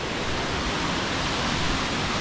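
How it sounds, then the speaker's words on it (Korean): Guryong waterfall at Sogeumgang in Odaesan roars as a steady, dense wash of falling water, loud and unbroken throughout with no voices. "여기가 구룡폭포야 여기가"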